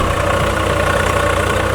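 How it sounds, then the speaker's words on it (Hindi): A Swaraj tractor pulling a sugarcane weeder runs steadily with a loud, continuous engine drone and no breaks, close by and with no voices. "स्वराज ट्रैक्टर है हमारा"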